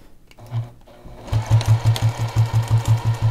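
A sewing machine stitches quilt binding near a mitered corner: one short burst, a pause, then a close, loud run of rapid rhythmic needle thumps.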